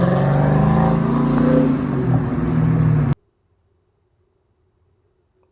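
New South Wales Highway Patrol police car engine in Australia, loud and close for about three seconds with rising and falling revs, then cutting off sharply to near silence.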